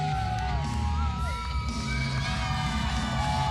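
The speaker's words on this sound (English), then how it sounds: "Crowd cheering for Titus here this evening." A gymnasium crowd cheers and shouts for the wrestler Titus at a live wrestling event, a dense, loud roar of voices with whoops rising over it, continuous throughout.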